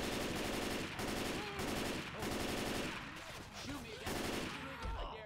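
Repeated bursts of rapid gunfire from Left 4 Dead 2 versus play, loud volleys broken by brief pauses, with some speech mixed in among the shots.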